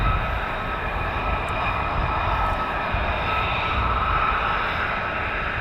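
Military jets roar over RAF Lakenheath airfield, a loud, sustained broadband engine rumble and hiss that holds steady throughout, with no talking.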